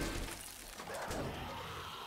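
A glass jar shatters in 7 Days to Die, a brief bright crash over a steady background hiss at moderate loudness.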